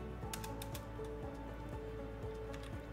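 Typing on a computer keyboard: a short run of light, quick keystroke clicks over a steady background hum.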